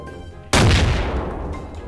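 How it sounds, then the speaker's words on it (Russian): Air-strike explosions in the video game Garry's Mod arrive as one sudden loud blast that rumbles on and fades slowly, with no talking. "Слышите взрывы эти? Это с неба летят."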